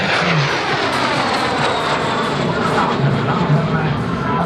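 A MiG-15 (Lim-2) jet fighter at the Piešťany air festival, a steady loud broadband engine roar that fills the whole clip with a faint whine on top and a crowd audible faintly beneath it.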